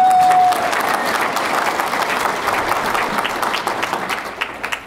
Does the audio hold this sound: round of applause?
yes